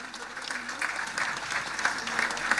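Applause from an audience at a government event in Guairá as a governor signs an agreement, steady broadband clapping throughout, moderately loud and without speech over it.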